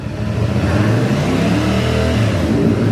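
A CF Moto 450 CLC motorcycle engine revs steadily up toward 4,000 RPM during break-in, a loud, close, sustained mid-pitched drone with no talk over it.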